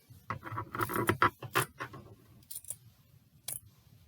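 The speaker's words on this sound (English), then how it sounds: "I just traced around my pretty cut piece on the terry cloth, and I'm just cutting around it now" Scissors snipping through terry cloth fabric while cutting around a traced pattern piece, a quick run of soft close crunchy snips followed by a few sparse cuts, quiet with no talking.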